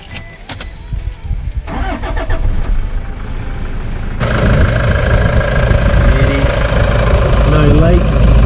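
A Toyota D4D diesel engine cranks and starts after an oil and fuel filter service, then runs at a loud, steady idle with a slight knock, close up, while a person talks over it.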